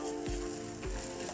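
An egg fries in an older frying pan, a steady close sizzle with a few low thumps as the pan or egg is moved.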